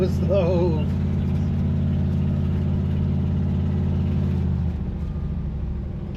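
An old car's engine, back on the road after sixteen years off it, drones loudly and steadily in a low rumble, its pitch shifting slightly as the gears change, with people talking over it.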